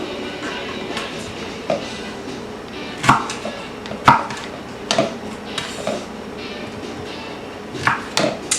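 A knife chops pineapple into chunks on a cutting board in irregular sharp thuds, several hits spaced a second or so apart, up close.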